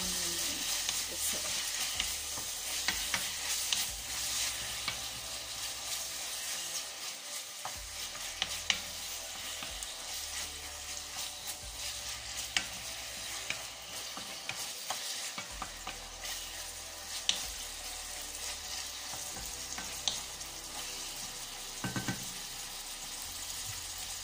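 Beef frying in a pan for a white cabbage and beef dish, a steady low sizzle with frequent stirring clinks and scrapes throughout, fairly quiet and close with no talk.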